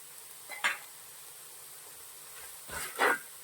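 A spoon scrapes through masala with fenugreek powder in a frying pan for a Kuttanad-style toddy-shop head curry. Two short, soft stirring strokes come a couple of seconds apart in an otherwise quiet kitchen.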